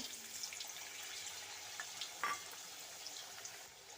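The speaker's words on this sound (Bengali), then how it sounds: "একটা আলু টুকরো করে রেখেছিলাম লাল লাল করে ভেজে নেব" Potato pieces frying in a pan of oil for a winter-vegetable khichuri, a steady soft sizzle with a few light crackles and one brief clink, close but quiet, no voices.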